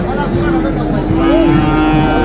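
A Friesian cross heifer calf at a busy Hazratpur cattle market moos loudly and close by in a sustained, wavering call lasting about two seconds.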